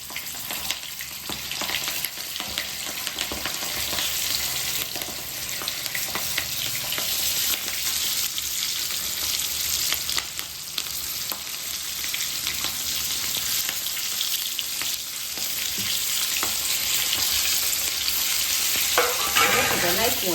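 Mustard seeds, cumin, asafoetida and turmeric sizzle in hot oil as a tempering for stuffed green chilli curry, a steady, dense frying hiss with occasional stirring scrapes running continuously and close.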